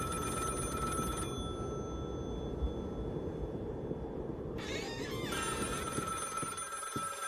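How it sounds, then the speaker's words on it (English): A telephone rings in the video game The Cabin Factory, a faint electronic trill that sounds, breaks off, then rings again louder over a low steady ambient hum, with no one speaking. "I'm not answering the phone."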